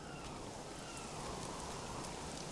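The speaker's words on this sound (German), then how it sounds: "Und es regnet." Steady rain falling in the game Submerged, a soft even hiss of drops on surfaces, faint and constant with no talk.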